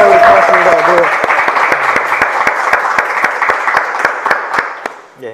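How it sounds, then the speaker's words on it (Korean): An audience applauds during a live interview event with a city mayor, loud clapping that thins out into a few scattered, distinct claps and then fades toward the end; a voice is heard briefly at the start. "여러분 박수 한번 더 부탁드립니다."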